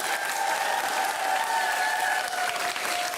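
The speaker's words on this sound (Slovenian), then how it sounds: "En aplavz za osnovno šolo Korena." Sustained applause from a crowd at a school quiz competition between primary school teams, a dense even clatter of many hands that continues for the full stretch.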